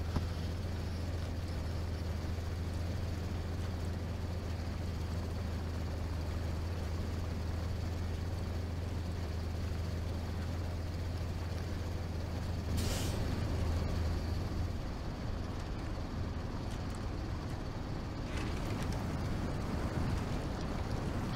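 A heavy off-road truck in SnowRunner rumbles steadily back toward the workshop, with a constant low engine drone throughout and a sharp air-brake hiss around the middle, then continued idling rumble.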